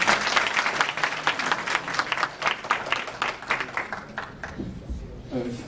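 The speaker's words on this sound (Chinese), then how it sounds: "请大家掌声鼓励" An audience applauds at a Chinese martial arts wrestling association demonstration, steady dense clapping from a crowd that holds for several seconds and then thins out toward the end.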